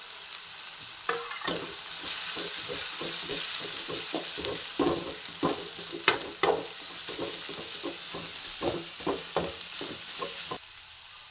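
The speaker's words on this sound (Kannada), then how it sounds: "ಚೆನ್ನಾಗಿ ಫ್ರೈ ಮಾಡ್ಕೊಳ್ಳಿ." Chilli, beans and carrot stir-fry in a pan under a constant hiss, with a spatula scraping and tapping against the pan in a quick, regular rhythm throughout.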